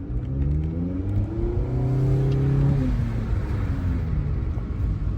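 A Nissan Altima engine revs up hard for a passing maneuver, the drone rising steadily in pitch inside the cabin, then easing into a steady road rumble, loud and without talk.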